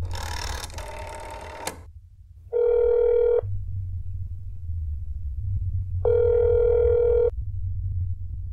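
A telephone in the video game That's Not My Neighbor plays a clear electronic tone in two sustained bursts of about a second each, with silence between them, after a short opening burst of noise over a low background hum.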